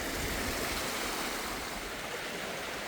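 Small creek running through a mountain debris field left by Hurricane Helene in western North Carolina, a steady, broadband rush of flowing water holding constant throughout with no voices.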